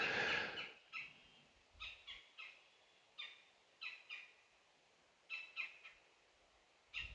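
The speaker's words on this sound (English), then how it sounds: "I'm betting it's a pileated woodpecker." A series of repeated, high-pitched pileated woodpecker calls rings out in short clusters, spaced irregularly against a quiet outdoor background.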